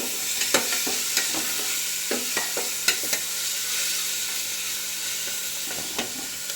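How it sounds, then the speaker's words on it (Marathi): Tomatoes sauté in a hot pan for Solapuri masala rice, a steady sizzle running throughout while a spoon scrapes and taps the pan in irregular clicks, close and with no talking. "टोमॅटो ही छान परतून घ्यायचा आहे."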